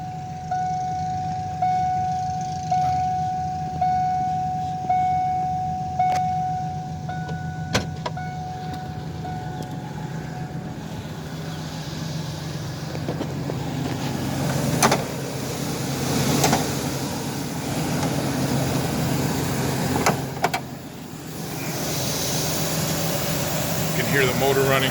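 A Ford E-150 van's engine idles steadily after sitting unused for a long time and needing an oil change, a continuous low hum with faint higher whines and a few scattered clicks and knocks.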